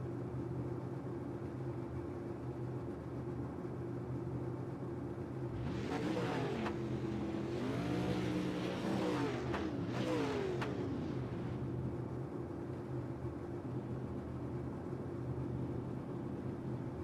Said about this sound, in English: Here comes the pace truck.